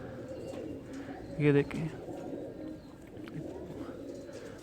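A red-headed pigeon gives a short, soft coo near the middle, close but quiet against background hum, while someone speaks briefly.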